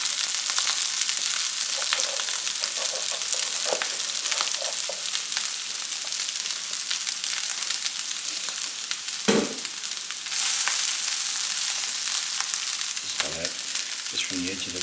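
Rice frying in oil in a pot, a steady loud sizzle that runs without a break, with a few scraping stirs as clumps are broken up near the end.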